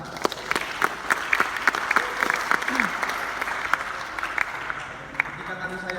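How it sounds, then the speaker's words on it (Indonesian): An indoor audience at a mosque youth organisation's inauguration claps for the organising committee. The steady applause lasts several seconds and then thins out, with faint voices underneath. "Tepuk tangan untuk panitia pelaksana."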